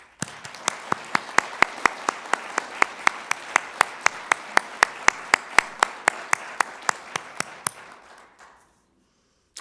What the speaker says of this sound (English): Please join me in giving this group a round of applause.